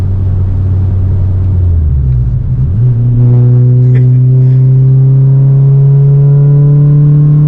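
A loud Renault Clio Sport 2.0 16V 182 hp engine drops in pitch at a shift from fifth to fourth at 100 km/h, then pulls hard with a rising, strained roar that climbs steadily.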